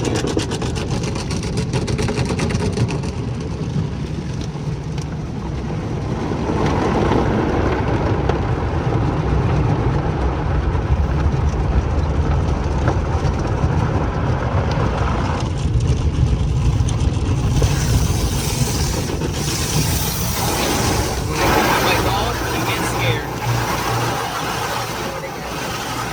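Automatic car wash running over a car, heard from inside as a continuous roar of spraying water and machinery that swells and shifts in intensity, with brief talk mixed in.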